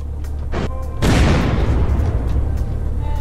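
A rocket launcher fires and explodes in the game Unturned: a short burst, then a loud boom at about one second that rumbles and decays over the remaining seconds, with no talking.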